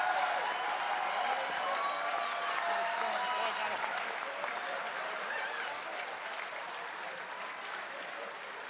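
A convention panel audience at a Babylon 5 cast reunion breaks into sustained applause and crowd noise, holding steady for several seconds before slowly tapering off, with some speech mixed in.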